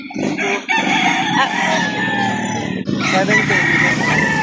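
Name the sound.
chickens and rooster crowing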